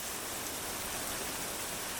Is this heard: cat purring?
no